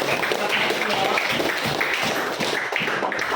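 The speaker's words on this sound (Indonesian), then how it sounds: "Tepuk tangan buat Pio." A burst of group clapping, dense and steady, from a roomful of people applauding for several seconds in a classroom.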